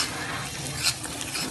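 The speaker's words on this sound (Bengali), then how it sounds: "গ্যাসের ফ্লেমটিকে পুরো হাই করে দিয়ে পেঁয়াজগুলোকে লাল লাল করে ভেজে নিন।" Thinly sliced large onions fry on a high gas flame, giving a close, steady sizzle with brief stirring scrapes, no voices over it.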